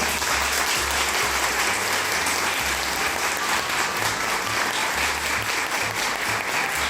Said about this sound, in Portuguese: desde já eu peço palmas para o nosso querido autor Oscar